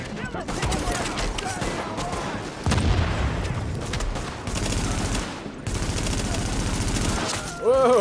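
Gunfire in Tom Clancy's The Division, a heavy-recoil weapon firing sustained bursts and volleys through most of the stretch, loud and close, with brief pauses between strings of shots and a short voice near the end.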